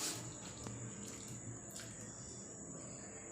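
Bael fruit pieces are swished in a bowl of water, a faint trickling and sloshing with a couple of small clicks against the bowl, quiet and alone.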